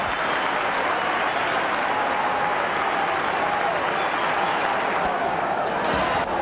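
Wigan rugby league crowd cheering at a home match against Bradford: a dense, continuous roar of a large stadium crowd with clapping, steady and loud from start to finish.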